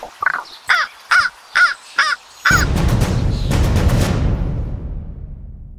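A raven gives about six loud, harsh caws in a steady rhythm, close and clear, followed by a sudden broadband crash or rumble that slowly fades.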